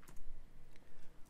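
Typing on a computer keyboard, a quick run of close, crisp key clicks in an uneven rhythm, fairly quiet and with no voice present.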